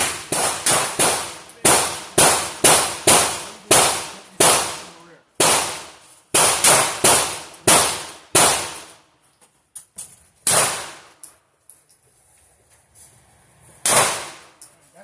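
Handgun fired at a shooting range, a rapid string of loud, sharp reports in quick bursts, then slower single shots with pauses, close and dominant.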